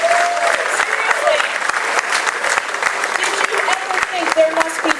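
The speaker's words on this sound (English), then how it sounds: "let's everybody give yourselves a round of applause" A crowd of around 450 people applauding at a growers' association inaugural meeting, steady dense clapping with sharp individual claps standing out and a few voices calling beneath it.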